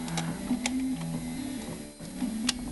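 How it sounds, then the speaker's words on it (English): Hand ratchet wrench clicking while loosening a front motor mount on a 1995 Toyota Camry, a fast run of small close ticks over a steady low background hum. "all I gotta do is ratchet this thing and get some torque on that fucker"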